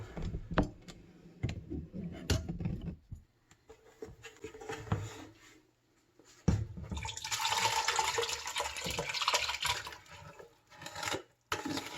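Hot pear preserves poured from a pot during home canning, a thick wet pouring rush in the second half after scattered kitchen clatter and knocks, fairly quiet and close.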